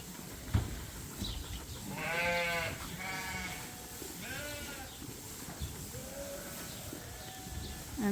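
Several ewes kept indoors off pasture bleat in a barn, a few clear calls in a row at moderate distance over a steady, low background hum.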